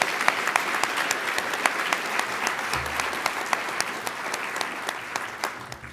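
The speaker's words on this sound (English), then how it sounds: "Give him a round of applause" Steady audience applause at a healthcare conference for a former Minister of Health, a sustained wash of many hands with sharp individual claps standing out, fading slightly toward the end.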